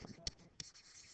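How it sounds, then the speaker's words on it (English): Pen strokes on a surface make two short, close scratching bursts a moment apart, quiet and alone. "I'll write that down."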